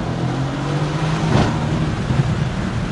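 Mercedes C63S AMG with its V8 engine driving on Monaco's Grand Prix circuit, a steady loud engine drone with a brief surge of revs midway, heard close and alone without talk.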